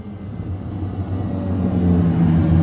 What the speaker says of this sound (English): F12. Ooh! Novitec F12. Oh my word, this is gonna sound insane.